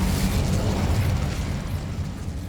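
Incendio fire spell cast in the Hogwarts Legacy video game, a loud rushing burst of flame with a deep rumbling roar that fills the whole moment and slowly eases off, no talking.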